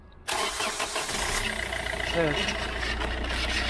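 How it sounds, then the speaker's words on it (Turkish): A car engine cranks and catches, then settles into a steady idle while power steering work goes on; someone speaks briefly over the running engine. "Şimdi kardeşim arabanın motorunu çalıştıracak."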